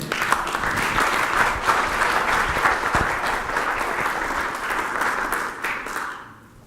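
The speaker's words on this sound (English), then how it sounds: "Let's give a very strong welcome to Tina D'Souza" An audience applauds to welcome a guest speaker at a talk on raising happiness. The dense, steady clapping fills the room for about six seconds, then fades out at the end.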